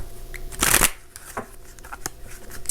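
Illuminated Star tarot cards are shuffled close up, with a crisp riffling burst followed by scattered soft slides, taps and flicks of the deck in a quiet room.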